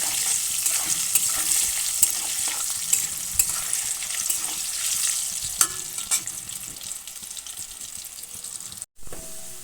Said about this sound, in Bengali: আমার আলু ভাজা হয়ে গেছে,